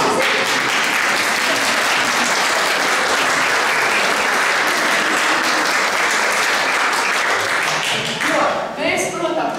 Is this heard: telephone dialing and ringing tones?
no